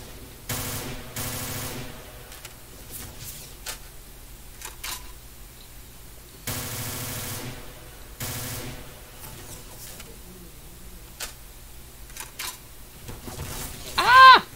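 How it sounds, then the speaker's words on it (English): FG-42 rifle in Garry's Mod, rapid bursts of automatic fire in several separate volleys across the clip, fairly close and punchy, with a sharp whistling sound at the very end. "it's the FG-42. Yeah. I'm gonna shoot fast."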